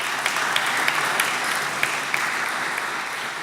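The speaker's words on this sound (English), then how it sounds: "round of applause for Milos anyways" A hall audience gives a sustained round of dense, even clapping at the ICB-2013 awards closing ceremony, heard close and alone without talk.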